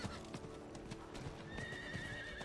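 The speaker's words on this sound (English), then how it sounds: "I like to ride the horse pretty quickly." A horse ridden in Diablo 4 across the Dry Steppes, rapid rhythmic hoofbeats at a gallop with a neigh near the end, close and clear, with no talking.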